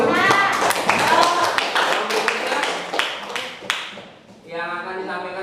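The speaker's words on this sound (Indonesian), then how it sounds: "kasih tepuk tangan dulu" Students in a junior high school classroom give a short round of clapping, with sharp, irregular hand claps close by for a few seconds before the noise dies away and a voice is heard.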